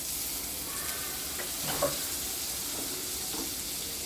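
Butter sizzling in a pan while noodles are being prepared, a soft continuous hiss with faint stirring scrapes and small pops.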